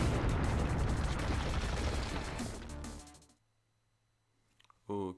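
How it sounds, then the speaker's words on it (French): Explosions in the Sonic Forces video game roar as dense, loud crackling blasts for about three seconds, then fade to near silence before a brief burst of voice. "Il y a des explosions partout."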